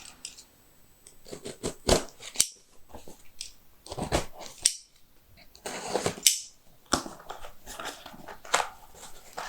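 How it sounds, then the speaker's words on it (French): Scissors or a blade cutting open a parcel of Yu-Gi-Oh cards, irregular snips, crinkles and crackling packaging rustle in uneven bursts, close and fairly quiet. "on va s'ouvrir un petit colis qui j'espère va vous faire plaisir"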